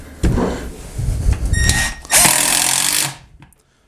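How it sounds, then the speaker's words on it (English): A Milwaukee M12 1/4-inch impact driver drives a 1-inch Phillips screw, starting with a short whir and then a loud, close, rapid hammering burst lasting about a second before cutting off into silence. "So we'll start here with the 1/4 inch impact and the 1-inch Phillips screw."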